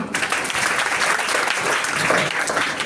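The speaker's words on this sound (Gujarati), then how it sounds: "તો જોરદાર તાળીઓ અહીંયા" Audience at a Gujarati quiz and antakshari event breaks into steady, loud applause, dense clapping sustained throughout with no voices over it.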